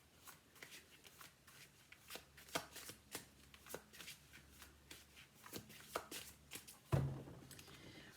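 Modern Spellcasters Tarot cards being shuffled by hand, quick crisp riffles and soft slaps repeated in a loose rhythm, close and quiet, ending in a sharper thump as the deck is squared.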